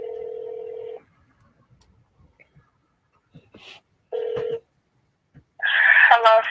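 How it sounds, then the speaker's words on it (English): Call being dialed on an iPhone: two steady electronic tones about a second long separated by silence and small clicks, then a louder burst of ringing-like tones at the end, close and clear. "I'm just getting ready to call this lady on the phone"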